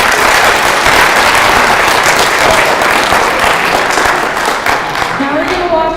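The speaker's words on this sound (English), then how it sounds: "Let's get one more round of applause for all the accomplishments that you guys have achieved." Sustained audience applause fills a high school scholarship assembly, a dense, loud wash of clapping from a large crowd that continues throughout, with a few voices and cheers mixed in.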